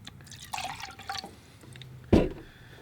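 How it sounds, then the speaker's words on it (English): Fresh water is poured into a watercolor painter's rinse bucket. Soft drips and trickles build to one brief, close splash, then settle into a quiet trickle. "At this point, I'm gonna put some new water in the bucket here."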